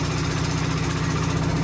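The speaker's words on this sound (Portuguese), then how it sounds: "o motor aqui é a combustível, é a óleo" An old oil-fueled diesel engine drives a traditional sugarcane mill at a rural rapadura-making farm, giving off a steady, loud, continuous low hum and drone with no variation and no talk.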